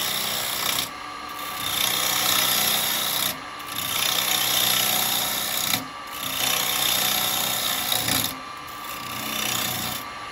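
A carbide chisel cuts a spalted beech bowl spinning on a lathe, giving a loud, continuous rasping scrape in four long passes separated by brief pauses.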